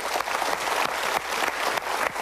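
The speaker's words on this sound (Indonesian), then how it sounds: "Kita berikan tepuk tangan untuk mereka." An audience at a live talk show claps together, a dense, continuous round of applause that swells in waves over a couple of seconds with no voices on top.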